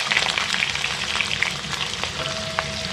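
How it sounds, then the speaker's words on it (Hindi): Peeled, cut potato pieces frying in medium-hot mustard oil in a kadai, a loud, close, steady sizzle with bright crackling pops and a faint tonal whine near the end. "अब उसमें ये छीली कटी हुई धुली हुई आलूओं के टुकड़े को डाल दें।"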